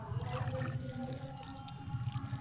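Water trickles and splashes softly in a steady, uneven stream, close by, as chili seedlings in polybags are watered, with a faint low hum underneath.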